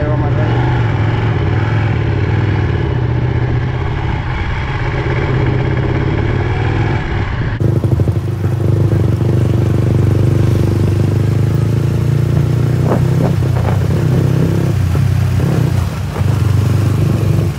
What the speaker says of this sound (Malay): Bila kita bawa Ducati ataupun motor-motor superbike